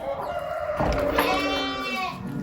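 A rooster crows loudly nearby, rising and stretching out, amid general farmyard background noise with sheep.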